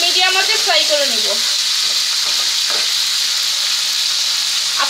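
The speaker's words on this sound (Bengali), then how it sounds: "টমেটোটা আমি মিডিয়াম মধ্যে ফ্রাই করে নিব" Tomatoes fry over medium heat in a pan, giving a continuous loud sizzle with some brief stirring scrapes.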